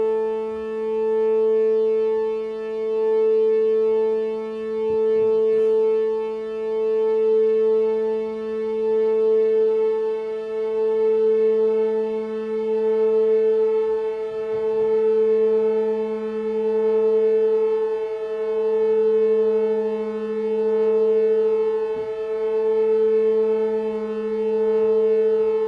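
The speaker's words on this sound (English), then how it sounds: "I'm going to make that octave out of tune gradually." A sustained cello octave held steadily, one pitch slowly drifting out of tune so a slow, regular beating pulse swells through the tone for about twenty-five seconds, alone and without talk.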